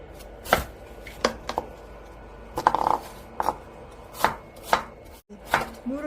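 A knife slices radish into pieces on a cutting board for anchovy broth, a series of sharp, close chopping knocks spaced irregularly, about eight in all, with no voices.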